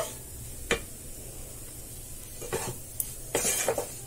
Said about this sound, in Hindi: मैदा को हमें कलर चेंज होने तक इसे हमें भून लेना है।